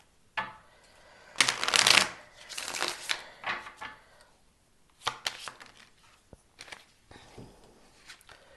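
A deck of tarot cards being shuffled by hand: close, crisp riffling and flicking in bursts, with quieter pauses and taps between passes and no talking.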